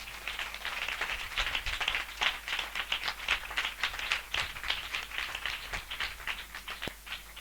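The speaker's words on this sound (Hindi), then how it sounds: "हम जोरदार तालियों से उनका स्वागत करें।" Church audience at a revival gathering clapping loudly to welcome believers, a continuous crowd of hands with sharp individual claps standing out, steady and close throughout.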